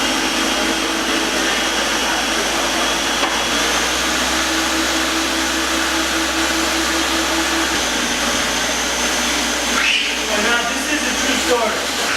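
A blender whirs continuously at high power, chopping green and red peppers, onions and cilantro into sofrito, a loud steady motor roar lasting throughout with a brief shift in pitch near the end.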